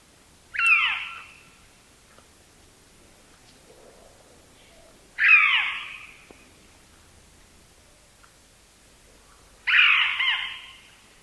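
Powerful owl calling in South East Queensland bushland, three separate hoarse, breathy calls spaced several seconds apart against a quiet background, with no voices.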